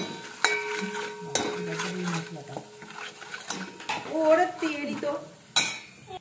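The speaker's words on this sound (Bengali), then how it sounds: "তো ভালো করে একটু কষাতে হবে যতক্ষণ না তেল ছাড়ছে।" Spiced potato curry (aloo dum) sizzles in a pan while a metal spoon scrapes and clinks against it, with sharp knocks and irregular stirring over a soft background of frying.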